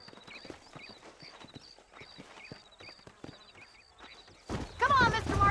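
Horse hooves clip-clop in a steady, rhythmic gallop from Red Dead Redemption, moderately close, before a louder burst of voice and noise takes over near the end.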